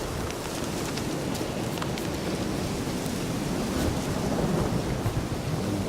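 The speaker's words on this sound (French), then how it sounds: "Il pleut en plus" Steady heavy rainfall and rumbling thunder fill a stormy outdoor scene in the video game The Witcher 3, a dense wash of rain noise broken by deep rolling rumbles, loud throughout with no voices.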